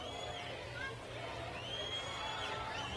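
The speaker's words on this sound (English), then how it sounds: "Crowd's getting excited." An excited crowd gathered outdoors for the 2024 solar eclipse, a steady low babble of many voices and scattered calls, distant and fairly quiet, with no single voice standing out.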